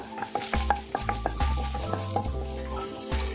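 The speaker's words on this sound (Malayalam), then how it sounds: "നന്നായിട്ടൊന്ന് വഴറ്റി കൊടുക്കാം" Garlic and ginger frying in hot oil for a restaurant-style vegetable manchurian gravy, a steady close sizzle broken by repeated sharp clinks of a spatula stirring against the pan, with no voices.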